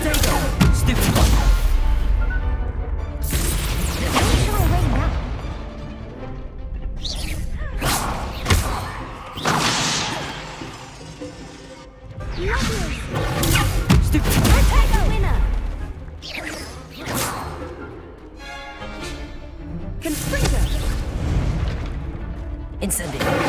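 Confringo spell explosions going off in the Hogwarts Legacy video game, a run of heavy booms and thuds recurring throughout, with a person talking over them.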